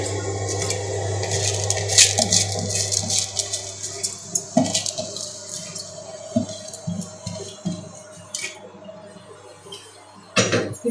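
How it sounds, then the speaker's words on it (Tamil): Basmati rice is tipped into a bowl of water, making soft wet squishing, rustling and small splashes in irregular bursts close to the microphone over a low steady hum. "ஒரு பவுலில் தண்ணி எடுத்துருக்கேன், நல்ல தண்ணி, அதுக்குள்ளே போட்டுருங்க."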